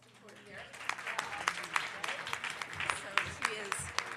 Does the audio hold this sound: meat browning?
no